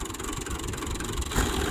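Tractor engine pulling in first gear, a continuous mid-to-low rumbling drone close by, steady throughout with a brief surge in loudness toward the end.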